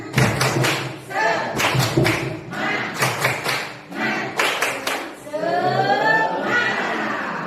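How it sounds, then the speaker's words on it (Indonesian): Teachers at a school workshop stand and do the tepuk semangat spirit clap together, sharp bursts of synchronized claps in patterned groups with thuds between them, ending in loud voices shouting as one. "Coba tepuk semangat."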